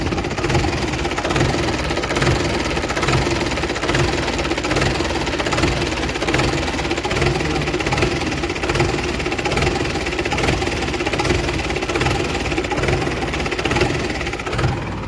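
A Mahindra tractor engine runs steadily at close range with a continuous mid-pitched chugging drone and an even rhythmic knock, no voices over it.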